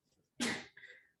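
One quick, forceful human sneeze in a quiet room, sharp and fairly close, trailing off into a short breathy tail.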